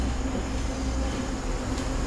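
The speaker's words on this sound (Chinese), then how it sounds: "过来了，过来，火车" A Pingxi line train passing near Sandiaoling in Taiwan, a steady low rumbling roar of rolling carriages heard close and continuous, with no talking over it.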